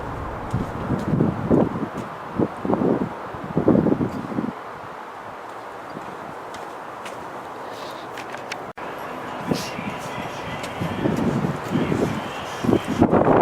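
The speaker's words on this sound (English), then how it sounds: "It's like 20-30 mile an hour wind gusts" Strong gusty wind buffets the microphone in rumbling bursts, easing briefly in the middle before picking up again, with faint rustling underneath.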